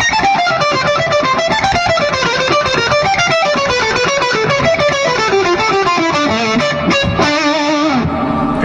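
An electric guitar with fuzzy distortion plays a fast Bach phrase in steady alternate-picked runs, the notes dense, bright and continuous, loud and alone throughout.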